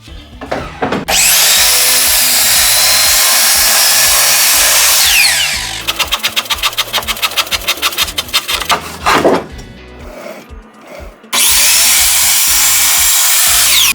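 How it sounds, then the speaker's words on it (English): A miter saw slices through blocks of glued-together paper, its blade screaming loudly through long cuts separated by a rapid chattering stretch, with the motor winding down between passes. "I'm going to use my miter saw to attempt this"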